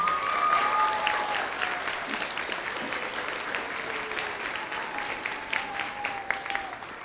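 An elementary school audience applauds the 2019 Presidential Award winners at a fifth-grade celebration, steady sustained applause from a large crowd filling the room, with faint voices and cheers mixed in throughout.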